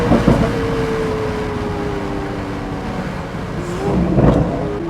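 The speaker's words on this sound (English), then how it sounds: "let's put it into Corsa mode, track mode. That makes the gear changes much more aggressive" A Lamborghini Aventador S Roadster accelerates in Corsa track mode, its loud engine droning and rising steadily in pitch, dropping briefly at a gear change, then climbing again, with no voices.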